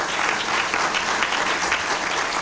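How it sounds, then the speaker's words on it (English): Audience applause in the middle of a political speech, a dense and steady burst of clapping from a sizeable crowd that fills the whole stretch at a loud level. "it's okay to applaud that"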